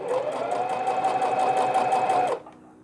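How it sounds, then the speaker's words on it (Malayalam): A sewing machine stitches a newborn round pillow closed, running at a steady fast hum with even rhythmic clatter for about two seconds before stopping abruptly. "ഇവിടെ സ്റ്റിച്ച് ചെയ്ത് ക്ലോസ് ചെയ്യാം."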